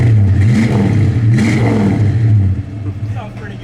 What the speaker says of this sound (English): I'm gonna rev it up just a little bit, Dalton, we'll keep it running.